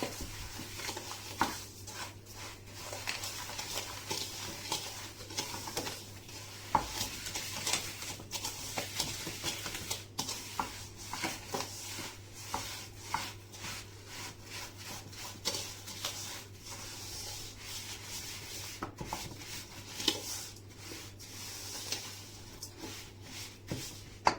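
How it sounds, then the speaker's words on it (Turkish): Eggs and sugar whisked together in a bowl, a soft, steady scraping and rubbing rhythm that goes on and on, close and quiet with no one talking. "Ve güzelce çırpma işlemini gerçekleştiriyoruz."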